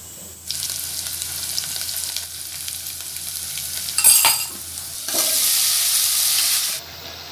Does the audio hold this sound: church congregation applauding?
no